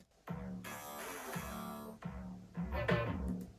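Layered synth basses, one gritty and dark and one textured, play together in punchy repeated low hits under a bright buzzing sustained layer. The mix is full and loud, with no speech.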